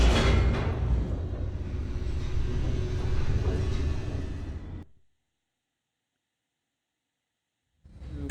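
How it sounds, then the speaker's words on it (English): An elevator descending in the video game The Stanley Parable, a loud steady low rumble lasting several seconds that cuts off abruptly into silence before the rumble returns at the end. "The elevator raced downward"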